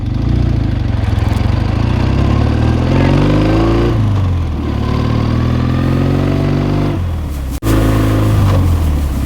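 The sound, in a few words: 1973 Chang Jiang engine accelerating while shifting gears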